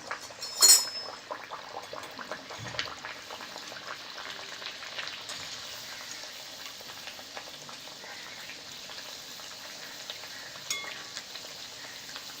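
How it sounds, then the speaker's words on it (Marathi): A puri frying in hot oil, a faint, soft crackle and bubbling with light clinks and a sharper knock near the start. "थापलेली पुरी गरम तेलात सोडा आणि तळून घ्या"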